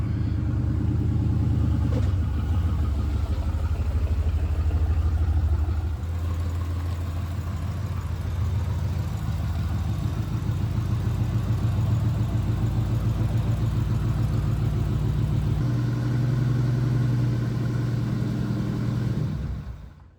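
A 1980 Pontiac Trans Am V8 rumbles steadily at low revs while being parked, a deep continuous engine drone with small throttle changes that cuts off at the end.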